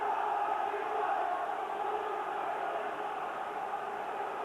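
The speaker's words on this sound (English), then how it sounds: "Just listen to this crowd now." A football crowd roars steadily at Bolton v Swindon, a League Cup semi-final second leg, as a continuous distant wash of massed voices with no single shout standing out.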